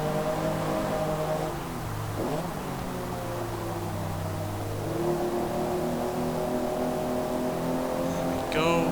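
A race car in Forza Motorsport revs hard under acceleration, its engine tone climbing, dropping at a shift into fourth, then climbing again, loud and continuous with a voice talking over it.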